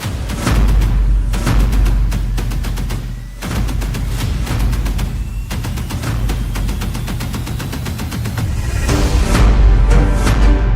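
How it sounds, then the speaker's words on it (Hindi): Loud, dense bursts of blasts and crackling booms from an explosion on a Tehran street, where cars stopped at a red light were blown apart, pile up continuously, with a deep rumble underneath throughout. "तेहरान में ये धमाका और रेड लाइट पर खड़ी कारों के उड़ते हुए चीथड़े"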